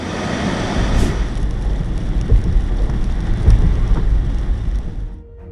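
Steady heavy rain pours down, a loud continuous hiss drumming on surfaces, with a few low rumbles mixed in before it fades at the end.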